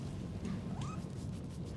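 A cat in the video game Nioh 2 gives a short rising meow, faint behind a steady low rumble of game ambience.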